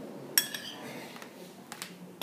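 Light clinks and taps of a utensil against a cup while milk, butter and cocoa powder are mixed for a cake batter, a few scattered strikes over a faint background.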